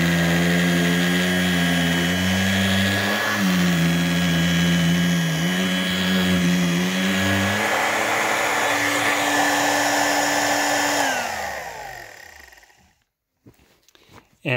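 A Dirt Devil Plus hand vacuum runs with a loud, steady motor whine whose pitch wavers slightly, then winds down smoothly to silence, followed by a few handling clicks.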